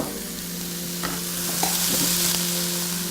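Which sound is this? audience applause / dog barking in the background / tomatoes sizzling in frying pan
tomatoes sizzling in frying pan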